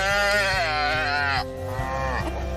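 A newborn Limousin calf, born the night before, bawls loudly and close after having its ear tagged on a farm near Vannes: one long, strained moo that breaks off, then a shorter cry.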